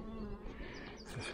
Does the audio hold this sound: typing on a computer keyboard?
no